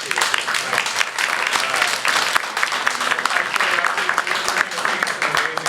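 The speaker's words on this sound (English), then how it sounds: "please everybody give a round of applause for Jeff Court" An audience applauds a fight choreographer at a Macbeth stage production, with steady sustained clapping filling the room and no pauses.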